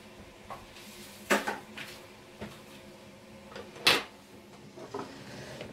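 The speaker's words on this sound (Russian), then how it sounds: "Я буду яйца разбивать вот в такую миску и по одному добавлять в нашу смесь и перемешивать." A few sharp cracks and clinks of eggs being broken into a bowl in a home kitchen while making a pie, spaced irregularly with quiet gaps between, close and fairly clear.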